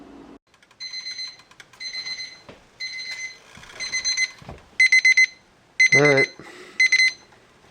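A kitchen timer beeps in repeated short bursts of rapid high-pitched tones, loud and close, with brief speech in between, while cooking beef stew.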